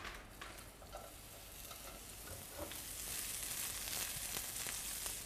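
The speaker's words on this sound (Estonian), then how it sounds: "kui pann on kuum, siis lähebki sibul praadima" Onion fries in olive oil in a hot pan, giving a continuous soft sizzle and crackle that slowly builds, with faint stirring and no talking.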